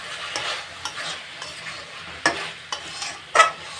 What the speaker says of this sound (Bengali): আমার ঢাকাটা খুলে একটু নাড়বো। আবার নেড়ে নিচ্ছি।